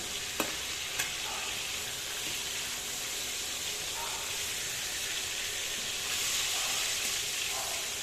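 Rohu fish pieces fry steadily in a pan with a continuous hiss and sizzle, a few faint clicks and scrapes as the pieces are turned, growing slightly louder toward the end.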